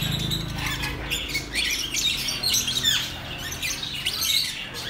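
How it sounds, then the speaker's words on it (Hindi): Cockatiels in cages at a bird market squawk and chirp in repeated harsh bursts, a busy overlapping chorus close by with no speech over it. "इनमें एक रेड कॉकटेल और एक ये येलो कॉकटेल, ये वाइट कॉकटेल"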